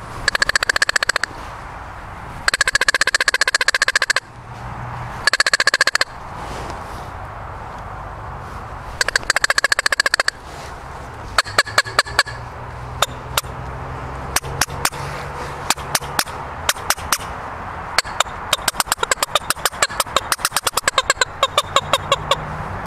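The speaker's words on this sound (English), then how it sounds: "And then one of the cool things you could do is pinch the bottom." Squirrel hand call played by pinching the bottom, producing bursts of raspy chattering squeaks followed by rapid clicking barks, close and loud with no talking.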